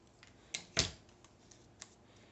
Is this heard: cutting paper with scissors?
yes